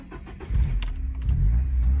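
A Volkswagen 2.5-liter four-cylinder engine cranks over and catches, settling into a steady, close idle after a brief starter whirr, with a faint metallic jingle near the start.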